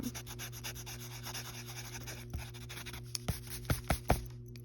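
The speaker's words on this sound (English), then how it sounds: "aggressively swipes away my pencil shavings." Pencil shavings brushed off drawing paper by hand, a run of soft rubbing swipes that ends in several sharper brisk strokes, close and fairly quiet.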